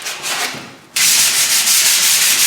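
Hand sanding a wooden table with fine-grade sandpaper gives a steady, close, loud abrasive rubbing, with a brief dip before a continuous stretch of rhythmic strokes.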